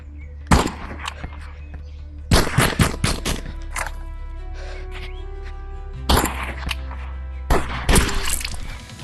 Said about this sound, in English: revolver is not the best gun in the game